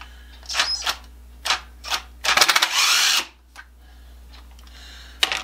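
A cordless impact driver on a nearly dead battery backs screws out of a saw, giving short separate bursts and then a longer weak rattling hammer run up close, with quiet gaps between.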